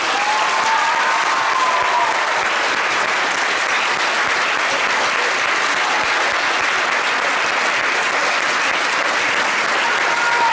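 A school audience applauds after a music-theatre performance by a secondary school in Kilkis, Greece, with dense, steady clapping that stays loud for the whole stretch, a faint tone showing briefly.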